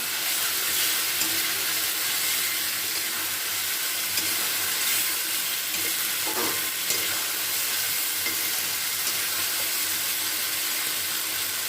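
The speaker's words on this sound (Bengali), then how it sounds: "এবার আমি ভেজে রাখা আলুটাকে এর মধ্যে দিয়ে দিলাম একটু ভালো করে নাড়াচাড়া করে নিচ্ছি" Fried potatoes being stirred into spiced oil in a pan for a fish curry, producing a continuous bright sizzle with occasional scrapes and clinks of the spoon, close and steady, without speech.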